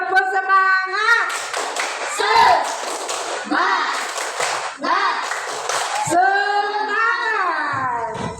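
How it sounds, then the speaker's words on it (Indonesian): A group of people at an Indonesian primary school clap a rhythmic spirit clap, loud and close, in sharp patterned bursts, with voices chanting and talking over the claps. "Semangat, tepuk semangat."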